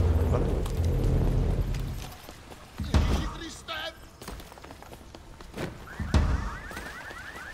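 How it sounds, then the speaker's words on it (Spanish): From a free vampire battle royale video game, a car alarm sounds nearby in warbling, repeating tones, moderately loud. Thuds and footsteps are mixed in, and players talk over it. "Acaban de saltar las alarmas por aquí cerca."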